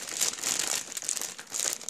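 Plastic packaging on a Ravensburger puzzle crinkles and rustles continuously as it is unwrapped close by, with no talking over it.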